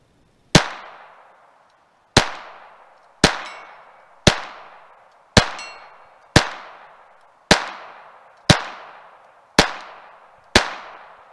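A Glock 44 .22 pistol fires at a target about 40 yards away outdoors: ten sharp, evenly spaced shots, each a loud crack with a short decaying ring, with about a second between them.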